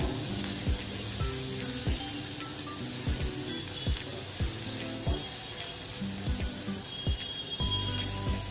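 Onion sautéing in oil in a pan, a steady close crackling sizzle with scattered pops and faint metallic scrapes of stirring, continuous throughout with no voices.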